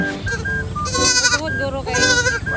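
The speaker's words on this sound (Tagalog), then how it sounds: "Pala yung kambing namin guys." A farm goat bleats loudly and close up, giving a few wavering, nasal cries in quick succession with brief pauses between them.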